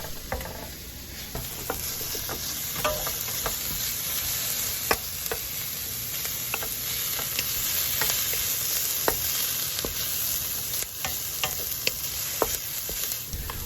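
Onions fry in a hot pan, giving a continuous close sizzle broken by frequent light scraping ticks from stirring, steady from start to end with no one speaking.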